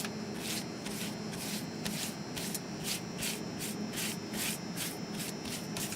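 Olive oil spread across a pizza crust with a brush or hand, heard as soft, rhythmic rubbing strokes repeating about twice a second, close and quiet, with no speech.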